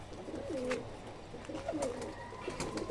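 A single pet pigeon from a fancy-pigeon collection coos softly a few times, with low rolling calls against a quiet background hiss.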